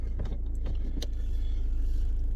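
Car interior on the way to a tyre service in Banbridge, Northern Ireland: a steady low road and engine hum with a few faint clicks and rattles near the start, quiet and without voices.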